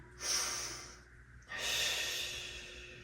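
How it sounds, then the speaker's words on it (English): Two deep breaths during a Pilates mat class with a ball, each a close, airy rush of air separated by a short pause, the second longer and fuller than the first. "Deep breath one more time."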